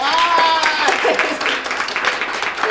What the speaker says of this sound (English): Everyone give us a round of applause.